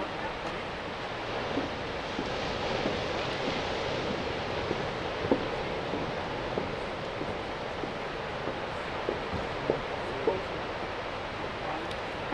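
Ocean surf at Pismo Beach at sunset, a steady broad rush of waves with faint wind, continuous and moderately loud, with no one speaking.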